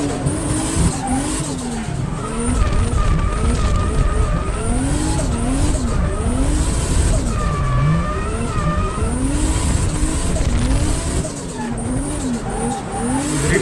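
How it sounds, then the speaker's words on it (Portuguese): A Nissan 350Z drifts with loud, wailing tire squeals that rise and fall in pitch over a roaring, revving engine, heard up close with no talking. "Drift é um bagulho doido"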